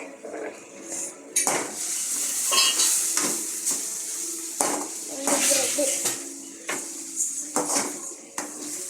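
Food with chilli sauce is stirred in a pan, a metal utensil scraping and clattering in irregular strokes over a steady sizzle.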